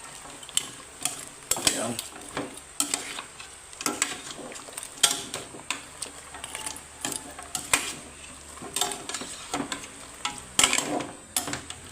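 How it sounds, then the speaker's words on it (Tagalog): Chicken being stirred in a cooking pan, Filipino-style dish with coconut milk, with repeated scraping and clattering strokes over a steady sizzle; a brief spoken word comes in the middle. "Haluin lang natin saglit."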